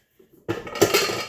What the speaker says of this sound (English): we're going to remove the mixing bowl from the boiling water